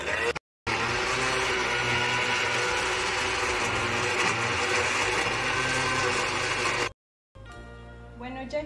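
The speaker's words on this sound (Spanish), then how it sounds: "Vamos a licuar nuestros jitomates y el serrano con un poquito de sal" A kitchen blender blends tomatoes and serrano chili with a little salt in a loud, steady grinding whir, cut briefly at the start and stopping near the end.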